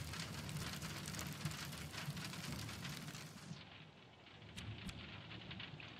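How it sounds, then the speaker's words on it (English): Steady rain falls in the video game The Pedestrian, a dense continuous hiss of drops on surfaces that softens briefly near the end. "it's raining. I like that sound."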